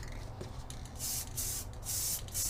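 An aerosol spray can laying light coats of paint on a custom dash for a 1965 Chevrolet C10 short bed truck, heard as three close, even hissing bursts separated by brief pauses.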